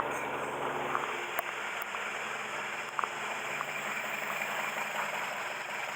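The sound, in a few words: Mercedes W115 engine idling after starting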